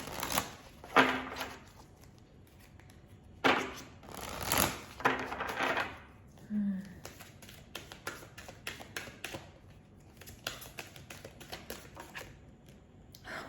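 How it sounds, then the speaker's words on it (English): A deck of goddess archetype cards riffles and snaps in several quick bursts, followed by soft tapping and shuffling, close and fairly quiet. "And now let me just shuffle for some of the goddess archetypes."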